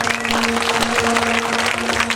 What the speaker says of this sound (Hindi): एक बार तालियां बजाओ जिनके लिए।